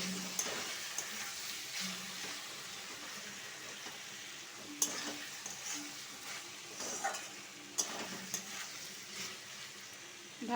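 Vegetables frying slowly in a covered pan, a steady soft sizzle throughout with occasional light clinks and stirring noises, close up, no talking.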